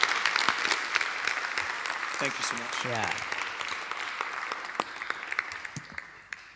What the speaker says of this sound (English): Let's give a great round of applause for Muhewe.